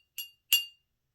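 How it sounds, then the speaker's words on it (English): Two separate taps on the glass bottles of a homemade glass xylophone, each a bright, ringing clink that decays quickly, heard close and clear with silence between them. "When I'm tapping on the bottle, we're hearing the sound of the glass vibrating."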